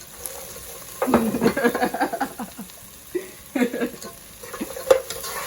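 Tofu tipped into a pan of sautéing garlic, onions and scallions for jerk tofu, giving bursts of sizzling and scraping stirring that rise and fall between quieter moments, fairly close.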